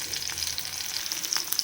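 Onions fry in a new pan, giving a faint, steady sizzle with light crackles over a short stretch, with no voices.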